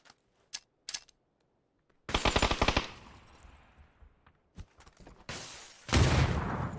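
Gunfire in a pro PUBG scrim match, with a few isolated distant shots and then two loud, close automatic bursts with echoing tails and scattered single shots between them.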